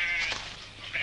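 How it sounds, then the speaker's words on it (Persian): A sheep bleats in a single drawn-out, nasal cry lasting about a second, close and fairly loud, with the pitch wavering through the call. "این گوسفند رو میبینی؟"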